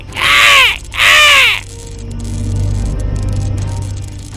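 A cartoon crow gives two loud, harsh caws in quick succession, followed by a low ambient hum.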